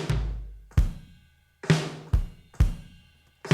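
An electronic drum kit from a song production plays alone, with a few spaced, punchy hits of deep kick and bright snare-like cracks, loud and close in a slow steady rhythm.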